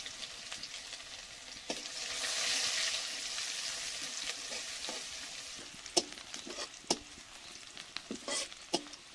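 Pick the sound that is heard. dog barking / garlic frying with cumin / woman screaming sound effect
garlic frying with cumin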